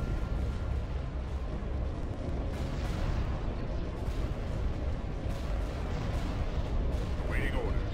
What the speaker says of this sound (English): Turbo lasers armed.